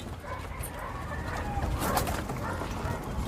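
Pigeons kept in a backyard loft make soft, low cooing against a steady background hum, with a few brief brighter sounds midway.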